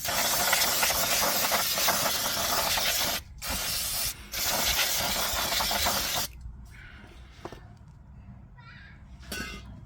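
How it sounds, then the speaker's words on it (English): Brake cleaner sprays onto a Citroen C1 rear wheel hub in a loud, broadband aerosol hiss lasting several seconds, broken by two brief pauses, then it cuts off, leaving faint quiet noises. "Apply a little brake cleaner."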